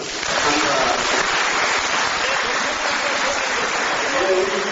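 Sustained audience applause at a church lecture event, a dense steady wash of many hands clapping that fills the whole moment at full loudness.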